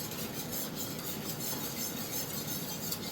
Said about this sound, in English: So we're just going to whisk this along.